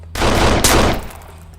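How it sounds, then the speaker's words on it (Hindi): A gunshot burst rings out at target shooting practice: loud, close blasts in rapid succession, a couple of heavy cracks rolling into a short decaying tail. "फायर!"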